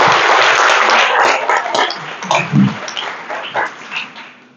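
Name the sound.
audience applause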